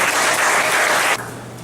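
Audience applause at an annual meeting of Weaver Street Market: a loud, steady wash of clapping from a crowd that drops in intensity toward the end, with no talk over it.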